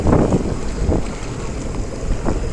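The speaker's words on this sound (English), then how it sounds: "We're just getting rocked in waves." Fishing boat rocked by waves on Lake Michigan off Sheboygan, Wisconsin, with water sloshing and low rumbling bumps under heavy wind noise on the microphone.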